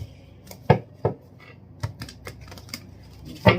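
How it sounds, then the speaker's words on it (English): A deck of tarot cards is shuffled up close in a brief burst: a few crisp, irregular taps and card snaps, with a couple of louder knocks at the start and end and softer clicks between them. "Two more shuffles and we are done."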